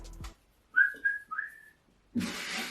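A toy camera's whistle blows three short rising toots in quick succession for half-time in a tabletop football game, then a burst of broadband noise follows.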